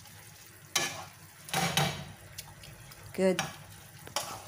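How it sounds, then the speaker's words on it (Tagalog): Spinach and mushrooms being stirred in a frying pan for a Turkish baked spinach and mushroom dish, with a few scraping stirs and soft sizzling; a brief spoken word comes in between. "Haluin lang natin hanggang sa ma-mix na yung ating mushroom together."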